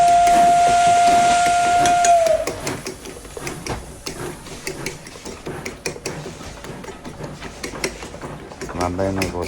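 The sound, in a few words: train steam whistle sound effect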